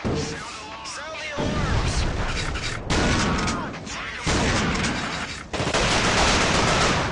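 Pistol shots and grenade blasts in The Thing Remaster, loud bursts of gunfire and booms in separate volleys, with a voice talking over the combat.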